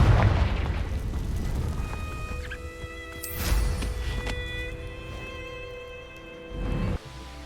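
In Hogwarts Legacy, a Confringo fire spell explodes in a booming blast with a sustained tonal ring, then a second heavy burst hits late and cuts off abruptly.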